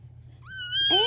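A cat gives a single rising, drawn-out meow that swells louder toward its end, heard up close over a quiet background.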